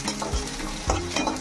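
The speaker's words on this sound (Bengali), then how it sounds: "আমি পেঁয়াজটা ভাজবো, আর একটু লাল করবো" Onion frying in a pan while making banana-flower chops, stirred with a utensil: a steady close sizzle with a few scraping stir strokes, and no talking.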